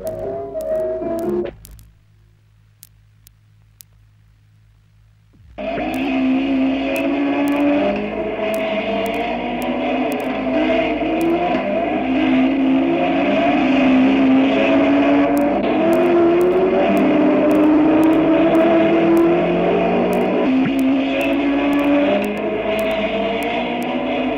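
Several 1958 race cars leave the start at the Charade mountain circuit, a brief hush giving way to a loud, sustained roar of engines revving and pulling away together, echoing through the surroundings.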